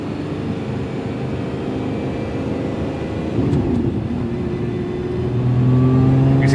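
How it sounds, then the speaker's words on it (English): Deep, throaty engine and exhaust drone from inside a 2024 Lotus Emira sports car, rising in pitch and loudness as it revs and accelerates toward the end. "listen to the exhaust"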